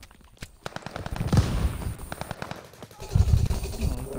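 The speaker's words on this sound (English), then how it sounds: "they're throwing grenades" Grenade explosions in Call of Duty: Vanguard land amid rapid gunfire, with two heavier low blasts about two seconds apart rising over the constant crackle of shots.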